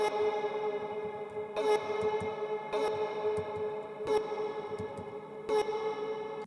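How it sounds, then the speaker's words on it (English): A vocal track with heavy reverb rings with long washy tails, punctuated by a few sharp bright hits at regular intervals. "stick a big old reverb on there."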